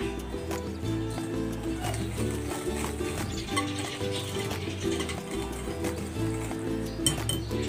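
A spoon stirs a mixture of coconut milk and evaporated milk in a metal pot while preparing suman moron. Close, repeated clinks and scrapes against the pot come in an uneven rhythm over a soft background hum.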